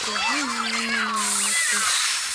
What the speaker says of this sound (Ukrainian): На мене зараз котик